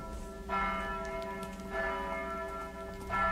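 Tolling bells at a ProSouth Wrestling entrance, sounding as three slow, resonant strikes about a second and a half apart, each ringing out with a long sustained tone over a steady hum, alone with no talking.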